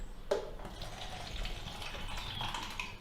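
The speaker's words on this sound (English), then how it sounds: "room temperature tap water" Room-temperature tap water runs from a faucet in a soft, steady, quiet stream for a few seconds, with no talking.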